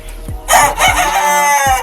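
A rooster crows loudly among hens clucking in a coop at a poultry farm, with brief cackles and calls close by, no talk.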